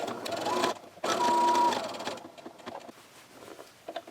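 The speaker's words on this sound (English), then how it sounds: "So you're going to want to do a couple of stitches and a back stitch, and then just kind of go all the way around." A home sewing machine stitches around welt pocket fabric, running in two steady whirring bursts with a brief pause between, then settling into quieter handling noises.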